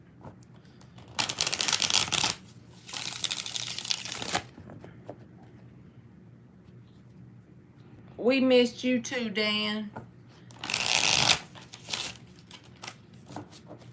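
Tarot cards are shuffled by hand in three crisp, riffling bursts of a second or two each, with a short stretch of a voice talking between the second and third bursts.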